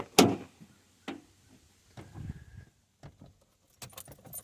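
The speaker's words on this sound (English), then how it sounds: "Let's go grab the keys." Keys jangle up close in a few short, distinct bursts, separated by quiet gaps and small handling clicks, with no talking.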